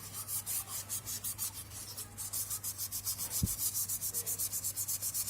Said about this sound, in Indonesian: Nah, kalian amplas seperti ini.